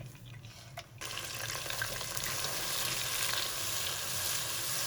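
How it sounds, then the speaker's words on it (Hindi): Spices for beef qorma, including Kashmiri chili, red chili powder, crushed coriander and salt, hit a hot pan and break into a loud, continuous close sizzle after a quieter opening second, with no one talking. "मसाले को 2 मिनट तक भूनेंगे।"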